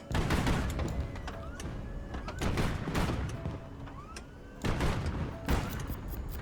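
Proximity-fuse shells fire in the naval combat game Highfleet, sounding as volleys of heavy thumping blasts and rattling bursts in an uneven rhythm, with faint whistling tones between them.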